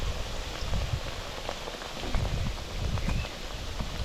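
Thattu vadai fry in boiling oil, giving a dense, steady crackling sizzle close by with scattered pops and no talking.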